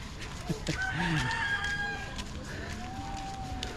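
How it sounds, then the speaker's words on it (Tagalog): Roosters crow in the distance, a long drawn-out call with others overlapping, mixed with clucking chickens nearby in an outdoor farmyard near Dawis Heritage Wharf. "Oh, dami ding manok dito"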